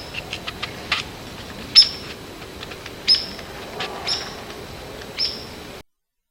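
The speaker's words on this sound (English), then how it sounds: "and his everyday calls are a high-pitched chirp." Downy woodpecker everyday calls: sharp, high-pitched single chirps, about four of them spaced a second or so apart, clear against a quiet background with a few faint ticks.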